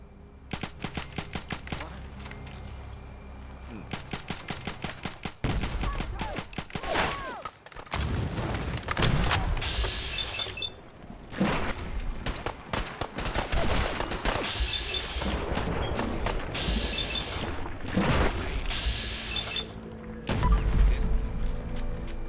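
Heavy gunfire erupts during a battle in the video game Fallout 4 Far Harbor: loud, rapid volleys and machine-gun bursts with thuds and booms, broken by short lulls before the shooting resumes.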